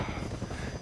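Helicopter in the zombie video game No More Room in Hell, a steady, low rotor and engine drone at moderate level, continuous through a short stretch with no voices.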